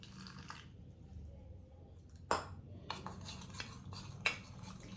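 A spoon clinks against a small bowl while stirring Nalangu face pack powder into raw milk, with a few sharp metallic taps and soft scraping over a quiet, faintly humming room.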